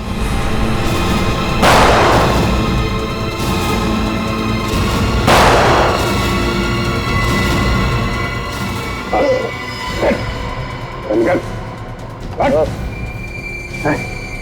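Two heavy gunshot blasts ring out amid a loud, busy background, followed by a series of sharper, lighter cracks or barks.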